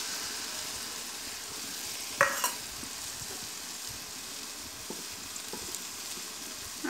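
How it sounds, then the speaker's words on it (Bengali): Eggs frying in tomato chutney over a clay stove, a steady soft sizzle with a few brief clinks of a utensil partway through. "এবার ডিম দিয়ে দেব।"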